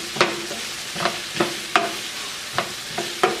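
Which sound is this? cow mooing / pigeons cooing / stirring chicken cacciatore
stirring chicken cacciatore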